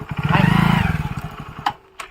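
A motorcycle engine idles and revs nearby with a rough, pulsing putter that fades slightly, followed by a couple of short clanks.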